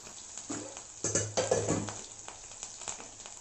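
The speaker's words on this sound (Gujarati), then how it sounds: "ગેસની ફ્લેમને લો કરીને અડધી મિનિટ માટે આ બધું જ આપણે સરસ રીતે સાંતળી લઈએ" Ginger, chilies, onion and garlic sauté in oil over a low gas flame, giving a soft, close sizzle broken by a few light clinks and scrapes of stirring in the pan.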